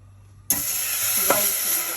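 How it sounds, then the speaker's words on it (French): Water poured into a very hot cooking pot bursts into a sudden loud hiss that continues as a steady sizzling rush, with a brief clunk partway through. "ma marmite était très chaude. Donc voilà, j'ai mis l'eau."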